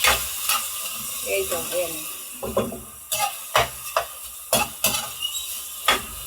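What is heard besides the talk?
stirring pork frying in a pan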